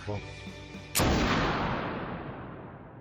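A single loud gunshot in the video game Spec Ops: The Line, a sharp blast that cuts off quieter music and then rolls away in a long, fading reverberant tail.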